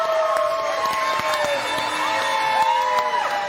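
Crowd at a PBA Legacy Cup bowling match cheers and whoops steadily throughout, a lively, loud roar with shouting voices rising and falling around the lanes.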